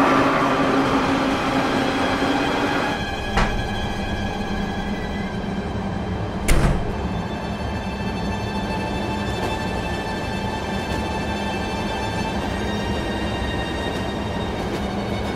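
A passenger train rolls steadily along the rails in a continuous loud rumble with faint rhythmic clatter, a sharp metallic bang partway through and occasional squeals, no voices.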